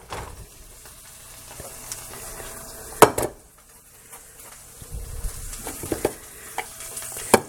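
Onions sizzle and fry in a pan for a home meal kit dinner, a steady low crackle broken by sharp clinks and scrapes of a utensil against the pan, with no talking.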